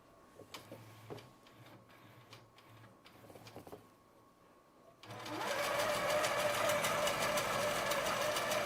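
A Butler Robotics longarm quilting machine bastes fabric, starting after a few quiet seconds of sparse clicks and taps with a loud, steady, rapid mechanical stitching whir that runs continuously to the end.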